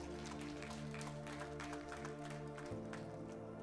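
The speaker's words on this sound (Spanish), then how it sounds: "Thank you for those who are clapping" Church congregation clapping during a service, scattered claps blending into a steady backdrop of sustained keyboard chords, moderately quiet and continuous.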